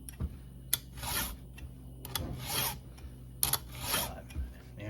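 A round file is pushed by hand across a chainsaw cutter tooth in a few slow, rhythmic rasping strokes, faint and close, with light clicks and taps between them.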